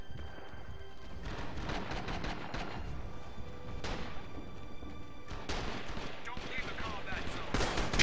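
Dense gunfire in the video game Rising Storm 2, rapid overlapping shots and bursts layered over a busy battle din throughout, with no voice over it.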